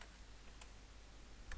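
Computer keyboard typing on a PC while entering a search, with a few soft, quiet key clicks spread over a short stretch.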